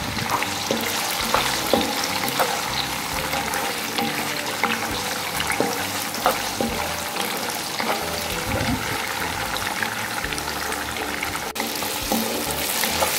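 Loud, continuous sizzling and crackling of rice vermicelli noodles frying in hot oil in a wok, steady throughout with occasional stirring scrapes.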